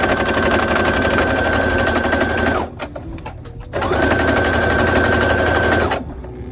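A sewing machine stitches a headband in two rapid, loud bursts of fast mechanical chatter, separated by a short pause with a few clicks, then stops and leaves a low hum.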